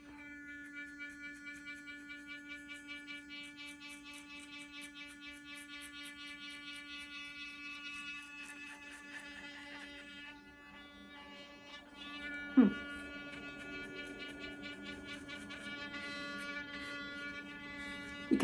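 Dermaflash Mini facial hair removal device hums with a steady close buzz as it runs over skin, its tone shifting slightly with pressure and a brief bump partway through.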